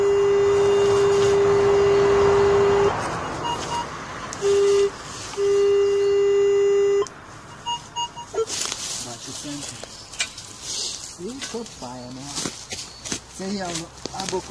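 A metal detector sweeping for a buried coin gives a steady, loud electronic tone in several bursts of different length, followed by digging and rustling while someone speaks.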